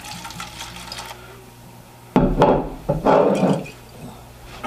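A splash of water goes into a glass of Cypress Cove whiskey at a Texas tasting. After quiet room tone comes a sudden close pour with sloshing bursts that swell and fade over a couple of seconds.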